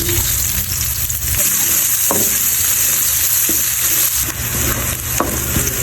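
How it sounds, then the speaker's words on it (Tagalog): Chopped garlic sautéing in a hot pan gives a loud, steady sizzle throughout, with a few sharp clicks of a utensil scraping and stirring. "Para din ako magigisa ng bawang."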